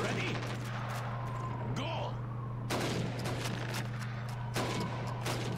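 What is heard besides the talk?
rifle gunfire shooting helmets in Call of Duty 2 video game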